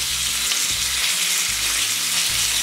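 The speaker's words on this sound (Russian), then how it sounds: "будем жарить рыбу с другой стороны" Trout fries loudly and continuously in a hot pan, a dense crackling hiss close up, with faint low hum beneath and no voices.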